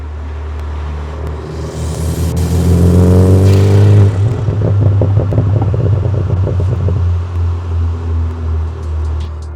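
BMW G2X with a B48 four-cylinder engine and AWE stainless steel straight-through exhaust, revving up loudly with a rising deep drone, then burbling and settling into a pulsing idle.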